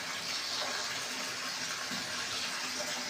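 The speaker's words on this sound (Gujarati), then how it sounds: "હવે આપણે એમાં નાખી દેવું પાણી" Water pours steadily into buttermilk in a home kitchen, a continuous splashing gush that stays close and even for about three seconds with no voices.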